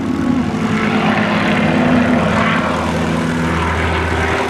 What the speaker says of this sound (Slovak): V premiére na letisku v Slavnici lietadlo Spitfire